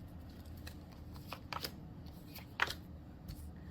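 Thin cardstock playing cards from a new deck being shuffled, a few soft riffling bursts and flicks scattered over a quiet background, close and fairly faint.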